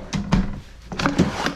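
Travel trailer drawers in a 2021 Forest River Cherokee Alpha Wolf 33BH-L are pulled open and pushed shut, giving a few close, sharp sliding thuds and clacks in two quick bursts.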